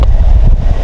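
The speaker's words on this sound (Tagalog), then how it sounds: "kasi sobrang hangin talaga, wala tayong ibang napagtaguan dito." Strong wind buffets the microphone at a campsite in Panaraga, Philippines, a loud, steady low rumble filling the short moment with no voices.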